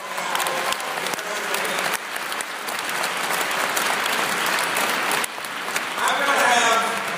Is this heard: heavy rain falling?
no